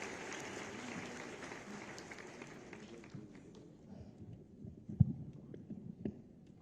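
Audience applause at a government ceremony where the Chief Minister launches the 2023 school enrollment and communicable disease control campaigns; faint, steady clapping that thins out and fades, with a few scattered claps near the end.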